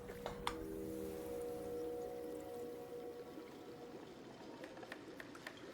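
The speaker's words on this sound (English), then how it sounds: "Sounds like boiling water." Water bubbling and boiling in a kitchen within the video game Jusant, a steady low churning wash with faint tonal hum early on and a few light clinks, heard alone without voices.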